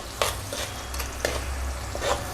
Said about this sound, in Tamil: தக்காளி வெங்காயம் விழுது நம்ம சேர்க்குறோம். சேர்த்து பச்சை வாசம் போகிற அளவுக்கு வதங்க விடணும்.